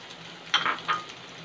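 Onion and carrot sautéing in a pan, a soft steady sizzle with a brief louder stirring scrape near the middle, close and alone.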